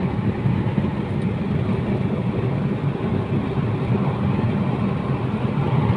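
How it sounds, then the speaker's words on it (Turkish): A Fiat Egea 1.4 petrol engine, 95 HP, pulls hard at full throttle up a steep ramp in fifth gear, giving a steady, loud, continuous low drone with no talk. "dip gaz tırmanıyorum arkadaşlar hiç acımadan"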